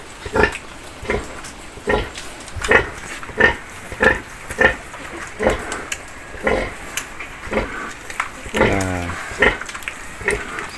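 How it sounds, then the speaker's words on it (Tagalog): A litter of newborn piglets nursing from a sow, with rhythmic low grunts repeating about every second and soft squeals and snuffling among the piglets, close and continuous. "Kadidi naman ng maayos yung ating mga biik."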